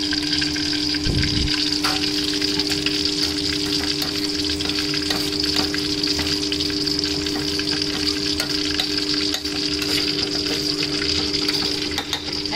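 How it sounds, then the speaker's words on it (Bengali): Chicken nuggets frying in hot oil, a steady crackling sizzle that runs the whole time, with a few soft clinks and a low electrical hum from the kitchen. "আর এখন এদিকে চিকেন নাগেট ভাজা হচ্ছে।"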